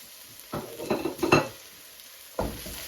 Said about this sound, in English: We are stir frying.